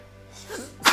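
A single sharp sneeze bursts out loud and close at the very end, after a short, quiet build-up breath during a religious talk program.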